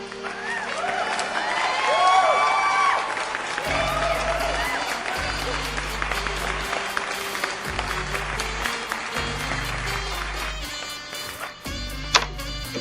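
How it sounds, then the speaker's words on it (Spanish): Schoolchildren in a classroom clap together in a dense, steady burst, with a steady thumping beat underneath and some voices mixed in, then the applause thins toward the end. "se merecen un gran aplauso"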